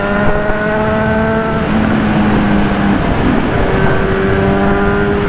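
Engine drone of a Honda CB 1000 motorcycle ridden in traffic at night, a loud close steady tone that shifts pitch as it changes gears, with wind rush and road noise throughout.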